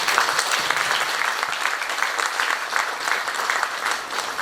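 Audience clapping in a hall at a spiritual gathering, a steady, moderately loud patter of many hands with no voices on top.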